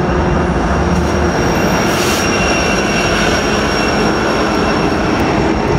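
A heavy freight train rumbles past nearby in Colton, California, a loud continuous roar of wheels and cars with faint metallic squealing.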